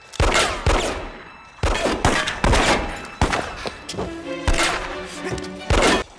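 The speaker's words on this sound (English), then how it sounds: "he's shooting at cops right now" Gunfire in the film American Psycho, a man shooting at police: a rapid series of loud, close, booming shots with sharp attacks and echoing tails, spaced unevenly over several seconds.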